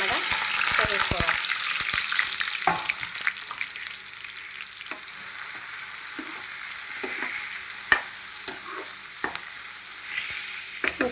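Thinly sliced onions and green chilies fry in a pan for a dried prawn curry. A dense sizzle with clattering stirring starts loud, then settles into a softer steady hiss broken by occasional spoon knocks.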